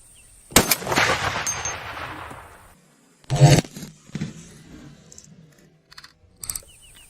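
A Shytech M200 Intervention rifle fires two loud, sharp shots, the first with a long ringing tail, followed by a few fainter clanks and clicks of handling.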